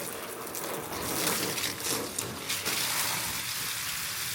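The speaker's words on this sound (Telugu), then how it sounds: "ఇప్పుడైతే మేము టబ్లో నీళ్ళు నింపుతున్నాం" Water gushing from a motor pump into a swimming tub, a continuous broadband rushing and splashing, steady and close with no talk.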